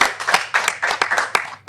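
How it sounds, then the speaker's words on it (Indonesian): A small studio audience at a podcast recording claps briefly, with a handful of sharp, close individual claps scattered irregularly in a short burst. "Tepuk tangan dulu."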